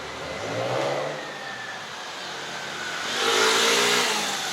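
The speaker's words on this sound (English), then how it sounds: "there's traffic." Cars passing on a street in Ridgewood, Queens, engines swelling as each vehicle approaches and fades, two distinct passes close by, with no talk.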